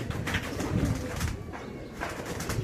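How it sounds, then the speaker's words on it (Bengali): Dyed homing pigeons land back at the loft after a 17-kilometre race toss, with soft pigeon cooing and rustling close by over a steady outdoor background. "ওই দেখেন রং মারা কবুতর নামছে"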